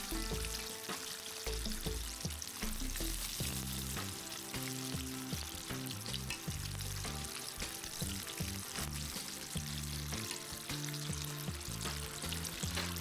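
Chicken pieces frying in hot oil give off a steady, dense sizzle and crackle throughout, with low tonal bands running beneath it and no speech.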